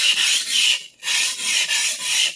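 A Clyde Cutlery chef knife is sharpened on a whetstone with rhythmic back-and-forth grinding strokes, loud and close, one brief pause between passes and no talking.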